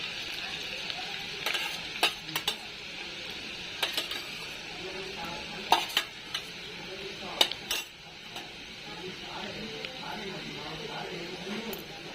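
Plenty of finely chopped garlic frying in hot oil for a garlic rice dish, a steady close hiss with scattered sharp utensil clinks against the pan.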